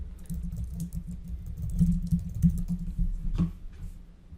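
Computer keyboard typing while exporting dental scan files for AI bone segmentation, a run of soft quick keystrokes with a few louder clicks, close and alone over a low background hum.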